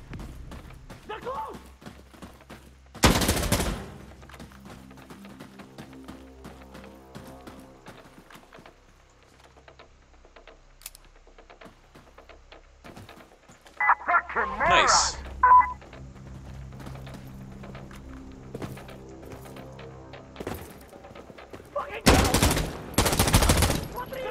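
Gunfire in the tactical shooter Insurgency Sandstorm: two loud bursts of rapid shots, one early and a double burst near the end, with a few scattered shots between over game ambience and music-like tones.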